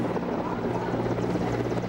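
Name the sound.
helicopters flying over Republic Day parade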